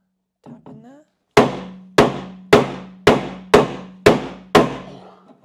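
A brief vocal sound, then seven sharp hammer taps on metal while fitting a spare wheel cradle to a new Land Rover Defender, evenly spaced and each ringing briefly before the next.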